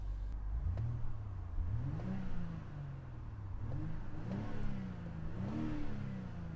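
A 2020 BMW X5 xDrive40i with the M Sport exhaust revs repeatedly, each blip rising and falling in quick succession, a fairly quiet, muffled engine note heard from inside the cabin.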